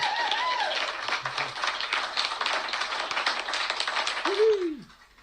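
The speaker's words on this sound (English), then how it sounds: "And a little round of applause for Mr. Cliff." A small group claps along during a live-streamed show, rapid tapping claps at fairly close range lasting several seconds, ending with a brief vocal exclamation and quiet.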